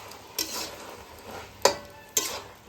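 Catla fish heads cooking with Malabar spinach and vegetables in a kadai for chorchori, a soft simmering hiss broken by three or four sharp scraping stirs of a spoon, close by.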